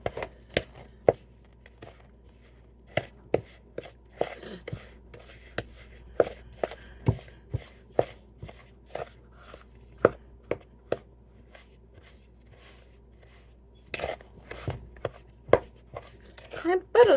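Cookie dough with not-quite-softened cold butter is mixed by hand in a bowl, with irregular sharp knocks and thumps of a utensil, close and fairly quiet, with no voices.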